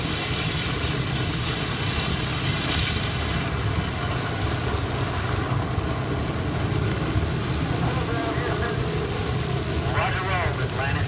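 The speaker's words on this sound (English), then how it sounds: "Liftoff!" A rocket lifts off at Kennedy Space Center, Cape Canaveral, Florida, as a steady, dense, roaring rumble that fills the whole clip. Voices of onlookers mix into the roar.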